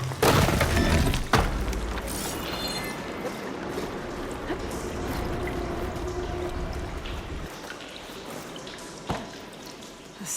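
Pressurised water gushes hard from a valve system in Horizon Forbidden West, a loud continuous rushing splash with a sharp crash at the start that slowly thins out toward the end.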